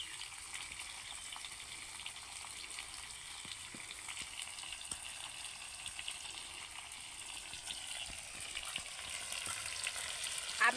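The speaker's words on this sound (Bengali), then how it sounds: "এইভাবে আমি কিছুক্ষণ নেড়ে চেড়ে রান্না করে নেব" Raw mango pieces, already mixed with salt and turmeric, sizzle steadily in a pan for Bengali sour-spicy pickle, a soft continuous frying hiss with occasional light stirring taps, no voices.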